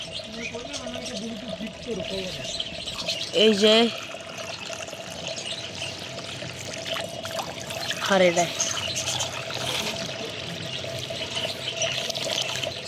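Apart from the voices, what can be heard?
water being poured for pigeons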